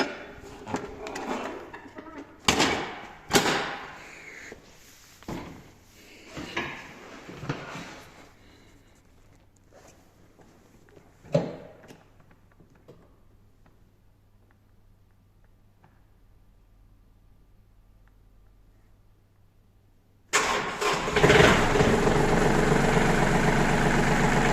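A Yanmar RS24 tractor engine is cranked in several short, uneven bursts with quiet gaps between them, then catches and runs at a loud, steady idle close by.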